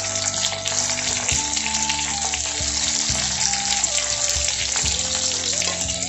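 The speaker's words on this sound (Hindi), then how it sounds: "एकदम कम फ्लेम में हमने ला ऐसे ही सिका देगो" Stuffed capsicum roasting in a pan over a low flame gives a steady, close sizzle that runs without a break, with a faint tonal background underneath and no talking.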